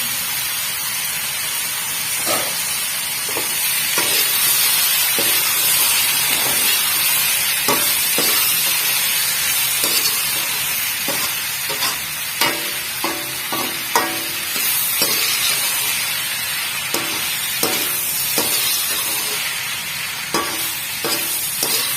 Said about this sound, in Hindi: अब डालेंगे इसमें मकरोनी, ये हमने इसको बॉईल करके रखा था